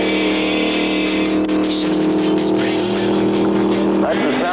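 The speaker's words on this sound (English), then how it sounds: "That's the sound of the quickest production sports car in the world today" A powerful sports car engine roars and revs steadily under acceleration, a dense rumbling drone that rises in pitch toward the end.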